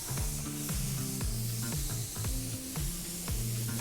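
A paint spray gun lays down a medium-wet first coat of metallic paint, a steady close hiss that pulses slightly with each pass, alone without any voices.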